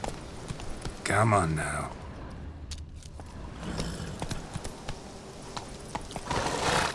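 A horse in The Witcher 3 runs with rhythmic clip-clopping hooves and tack jangling, mixed with game ambience and a brief whinny-like tone, under a voice urging it on.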